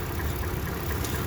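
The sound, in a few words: 2014 Toyota Tundra Platinum engine idling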